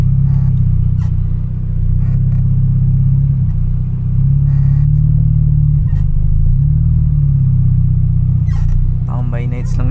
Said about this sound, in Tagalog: Halo-halong sasakyan guys